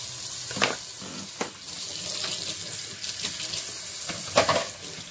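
Tap water runs into a kitchen sink while hands are washed, a steady close wash with a few brief louder splashes.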